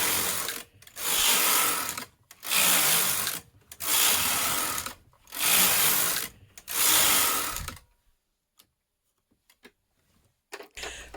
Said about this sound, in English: Thread the carriage with waste yarn and knit 7 rows.